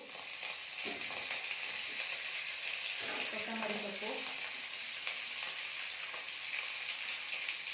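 Curry leaves fry in oil for masala idli, giving a steady, hissing sizzle with brief stirring near the start; a voice speaks intermittently over the frying.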